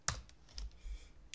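Brief keystrokes on a computer keyboard while typing out basic Python code, a few separated clicks and taps spread across a short, quiet stretch with no voice.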